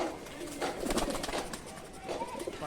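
Teddy pigeons coo softly at close range, low repeated murmuring calls over a busy background of rustling and other bird noise.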